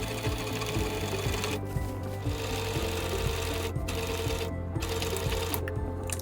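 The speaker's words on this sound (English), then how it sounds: "We'll stitch this little U shape here in an edge stitch" A sewing machine runs steadily while edge stitching a U-shaped pocket on a man's shirt being made into a child's skirt, with a close, even mechanical whir and rapid needle clatter and a few short pauses and stops.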